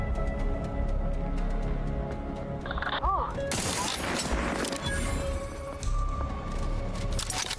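Gunfire from a suppressed gun in the video game Outer Worlds 2, a loud burst of shots mixed with impacts and crashing debris amid game ambience, with a rising electronic tone just before it.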